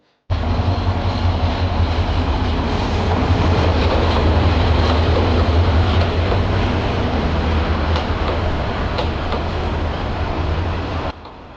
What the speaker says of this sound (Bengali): প্রতিদিন শহর ও ক্যাম্পাসে দুইটি ট্রেন পালাক্রমে যাতায়াত করে